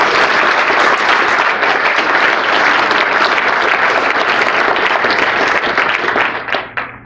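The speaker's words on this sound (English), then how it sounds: "Give Josh a round of applause" A conference audience at a closing session breaks into sustained, loud applause for Josh, dense clapping that holds steady, then thins into scattered claps as it fades out.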